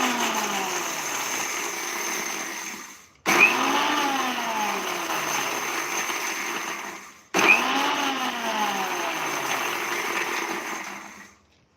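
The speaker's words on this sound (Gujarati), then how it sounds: "અહીં આપણે મિક્સર જારમાં ચાલુ બંધ કરી અને દરદરો પીસશું." A mixer grinder jar coarsely grinds samosa filling in on-off pulses: three loud, sustained whirring runs with a rising motor whine, each separated by a brief silent pause, heard close and alone.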